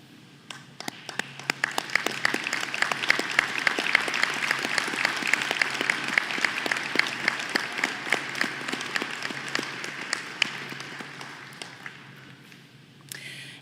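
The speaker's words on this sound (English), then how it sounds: "Will these students please stand for a round of applause?" Applause from the audience at a 2023 college honors convocation, a steady patter of many hands that swells, holds for several seconds, then tapers off near the end with no talk over it.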